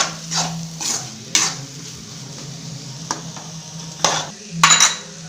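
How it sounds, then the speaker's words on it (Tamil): A spoon stirs beaten egg with masala in a frying pan, faint sizzling running underneath while sharp metallic scrapes and taps against the pan come in several irregular bursts. "முட்டையை வந்து மசாலாவோட நல்லா மிக்ஸ் பண்ணிக்கோங்க."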